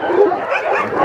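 Puppies at a dog shelter bark and yip in a dense, overlapping chorus, fairly close and loud, for about a second.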